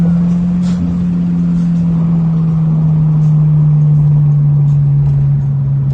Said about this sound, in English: Man, that sure was a quick acceleration up to 35 miles an hour.